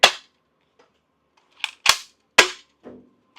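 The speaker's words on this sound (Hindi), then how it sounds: "अभी ये प्लेन का जो वो छोर है वहां तक फायर करता हूँ।" A toy shotgun firing water and soft bullets inside a crashed airplane gives sharp, snappy pops: one at the start, then a quick cluster of three or four after a pause, each loud and close with no talk.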